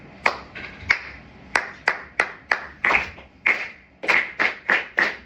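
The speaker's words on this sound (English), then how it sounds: "I'll clap it for you. You'll clap it back to me." A group of students clap a short rhythm back in unison, a string of about fourteen sharp, close claps in uneven groupings over a few seconds, with a brief pause before the last cluster.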